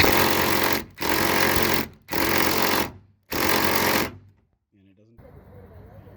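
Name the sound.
Ridgid power drill with T50 bit on hood vent screws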